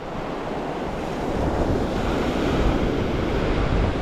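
Atlantic surf breaking on a Gulf beach at Pass-a-Grille after Hurricane Idalia, pushing shells ashore; a steady, loud wash of waves with wind rumble, swelling slightly after the first second and continuing unbroken.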